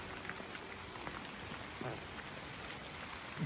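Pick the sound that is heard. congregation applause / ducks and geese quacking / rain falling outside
rain falling outside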